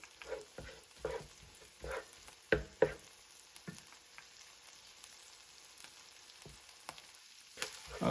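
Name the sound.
vegetables sautéing in a pan for catfish courtbouillon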